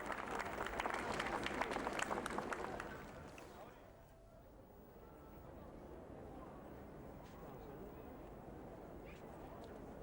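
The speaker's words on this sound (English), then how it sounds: "as they arrived, there was applause, and it spread and it rippled with affection through the crowds" Crowds of mourners applaud as the Queen and Prince Philip arrive during the 1997 Princess Diana funeral period, a broad outdoor ripple of clapping that is loud at first, then fades to a softer, distant patter under murmuring voices.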